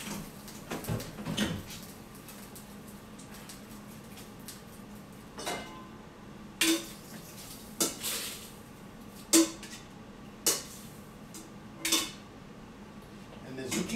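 Cooked linguine drained from a metal pot in a kitchen, with scattered clanks and knocks of the pot and utensils, a few sharp metallic hits spaced over several seconds against a quiet background.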